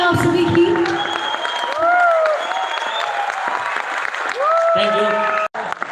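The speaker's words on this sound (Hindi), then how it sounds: "जोरदार तालियां आप सभी की।" Audience applause at an anniversary poetry program, clapping and some cheering beneath voices and tonal sounds, moderately loud with a brief cut near the end.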